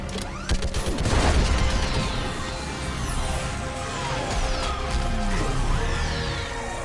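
Dense, continuous gunfire fills a Mass Effect 3 battle: rapid bursts and booming impacts overlap with crashes and sweeping energy sounds, loud and close throughout.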